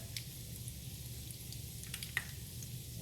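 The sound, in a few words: salmon croquettes frying in pan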